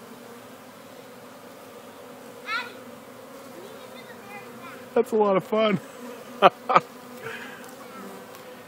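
A low, steady hum of many honeybees buzzing close up in a Langstroth top-bar hive box, with a few brief spoken words and sharper sounds over it.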